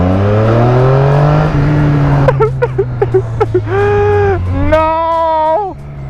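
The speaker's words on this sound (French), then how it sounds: "quand tu ouvres les gaz en grand à bas régime" A Triumph Street Triple motorcycle engine is opened to full throttle from low revs. A loud tonal drone climbs in pitch, breaks into choppy pulses, then rises again in two more strong revving sweeps close by.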